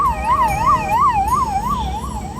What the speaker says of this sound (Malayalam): എമർജൻസി മെഡിക്കൽ കാര്യങ്ങൾ വന്നു കഴിഞ്ഞാൽ അവിടെ ഓടുന്ന ആംബുലൻസ് ആട്ടോ അത്